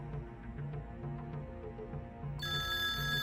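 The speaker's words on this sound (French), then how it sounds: "Le téléphone sonne." A telephone rings with a steady, bright electronic tone that starts abruptly partway through and holds loud over a low background hum; no one speaks.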